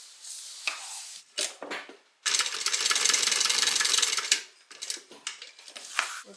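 A sewing machine bastes a tab onto bag lining in short stitching bursts, with one longer steady run of mechanical whirring among quieter handling clicks, close and fairly soft.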